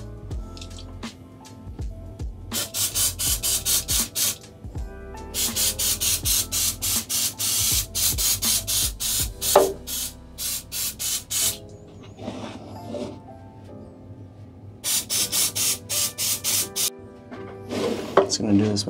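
Bursts of pesticide spray hiss from a bottle onto the undersides of houseplant leaves in repeated clusters of quick pumps, separated by quieter pauses with faint handling noises.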